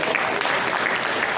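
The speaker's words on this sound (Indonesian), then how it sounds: "Tepuk tangan buat Papua." Dense applause fills a hall at a Pancasila discussion during a national working meeting, steady and continuous across the whole short stretch.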